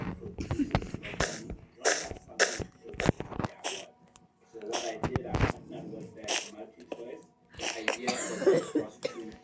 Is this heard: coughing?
yes